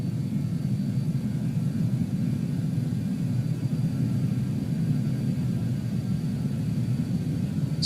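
BAe 146 jet engines at takeoff power in a flight simulator, a steady, loud, continuous low roar with an even hiss on top and no voices.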